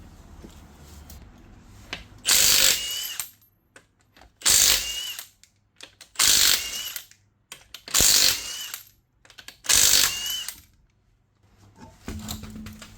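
Ratchet wrench loosening the lug nuts on a 2000-2003 fifth-generation Nissan Maxima wheel: five loud bursts of rapid clicking, each lasting about a second, separated by short quiet gaps, close up with no talking.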